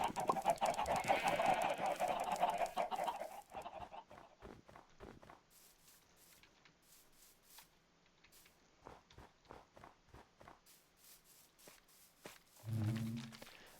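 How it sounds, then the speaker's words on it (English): Minecraft chickens cluck in the game, with a short, loud burst of clucking near the end, after quieter clicks and footstep-like taps, and denser game noise at the start. "All the chickens I need to slaughter are on the side."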